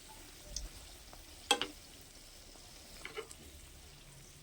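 Cabbage tiffin snacks fry in hot oil on a gas stove with a faint, quiet sizzle, broken by a few soft stirring clinks and taps.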